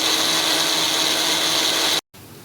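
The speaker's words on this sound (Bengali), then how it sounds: "এবার আমি পেস্টটাকে পিষে নেব অল্প করে জল দিয়ে" An electric mixer-grinder whirs loudly and steadily as it grinds poppy seed paste with a little water, then stops abruptly and briefly restarts.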